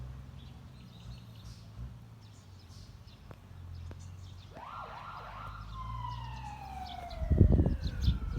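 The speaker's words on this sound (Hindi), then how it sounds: "सायरन बजा रहे हैं और क्रिसमस के गिफ्ट टॉफियाँ बांट रहे हैं" A fire brigade truck siren wails in rising and falling sweeps, moving in from a distance and growing louder, over steady low traffic rumble and a loud burst of noise near the end.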